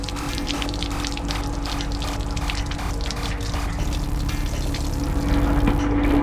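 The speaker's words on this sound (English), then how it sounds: "I have no idea where that water's coming from." Water leaking inside an RV pours and splashes continuously at close range, a steady rushing spatter with a low mechanical hum underneath.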